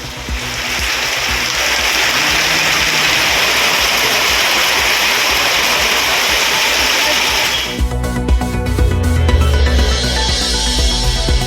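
Heavy rainwater pours off a roof channel onto a station platform in Sivaganga during a downpour, a loud continuous broadband rush that shifts abruptly partway through to a different, more clattering splash.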